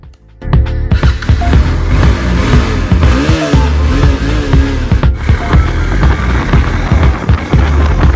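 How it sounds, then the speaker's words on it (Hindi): A motorbike's engine drones and revs steadily at close range during a town ride to a salon. It starts abruptly after a brief quiet start and stays loud throughout, with no speech. "हम कार से नहीं चल रहे हम अपने चल रहे हैं बाइक से"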